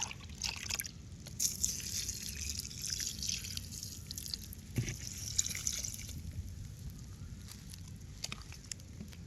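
Salad greens in a ready-made planter bed being watered: irregular dripping and trickling water with bursts of pouring spray, close and moderately loud, no talk.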